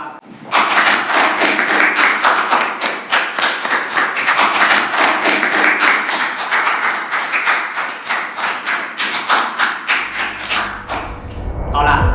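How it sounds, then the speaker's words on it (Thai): A room full of people clapping steadily and fairly loudly for several seconds, the applause thinning out near the end. "ทุกคนปรบมือแสดงความยินดี"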